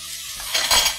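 Onions frying in a pan get stirred with a utensil, giving brief scraping and clinking against the pan over a soft sizzle, close and fairly loud with no talk.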